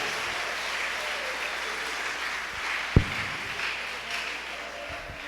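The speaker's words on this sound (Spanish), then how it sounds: "Dele fuerte aplauso." A church audience applauds, giving a steady wash of clapping at a moderate distance, with one sharp thump near the middle and faint voices mixed in.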